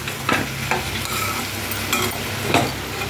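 Okra sizzling and being stirred in a pan over a low flame, a steady soft frying hiss broken by several scraping stirs of a spatula, close up with no voices.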